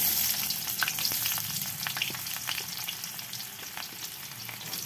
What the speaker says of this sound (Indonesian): Kemudian kita aduk, kita tumis sampai bawang merah dan bawang putihnya layu